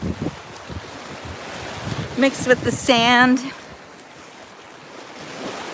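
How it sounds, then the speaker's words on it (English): Gentle, mild ocean waves wash onto a sandy beach as a steady, soft surf wash under someone speaking close to the microphone, with some wind noise. "Beautiful mild waves."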